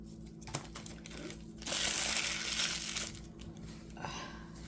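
Scissors cut through faux leather for a resin bloom background, giving a quiet crinkling, rasping slice in a single sustained stretch with a few small clicks around it.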